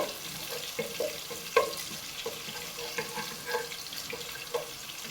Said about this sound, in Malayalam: അതും കൂടി ഇട്ടിട്ട് നമുക്ക് ഇതൊന്ന് ഇളക്കിയൊന്ന് വാട്ടിയെടുക്കാം